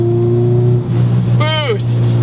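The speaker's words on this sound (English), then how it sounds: "It has pretty bad exhaust drone" A loud, steady low drone from the exhaust of a supercharged Honda Civic Si FA5 with a 2-litre K20 engine fills the cabin, constant throughout, with a brief whining sweep near the end.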